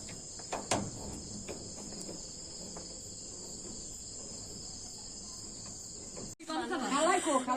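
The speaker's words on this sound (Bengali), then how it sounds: "ঝিঝি পোকার আওয়াজ ঝিরঝির ঝিরঝির" Crickets chirp at night in a quiet, dark picnic spot in Gazipur, a steady high continuous trill with a few faint knocks and rustles, cut off near the end by a louder muffled rustling sound.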